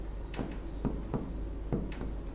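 Handwriting on paper comes through as several short, distinct scratching strokes in an irregular rhythm, close by, over a low steady background hum.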